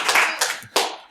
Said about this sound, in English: Give him a clap, boys.